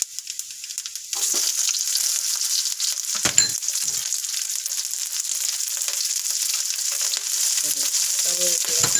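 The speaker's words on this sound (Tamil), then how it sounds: "காஞ்ச மிளகாய் எல்லாத்தையும் போட்டு நல்லா தாளிச்சு போடணும்." Dried red and green chillies tempered in hot oil for a potato brinjal curry erupt into a loud, sudden sizzle that holds steady and close, with occasional stirring scrapes.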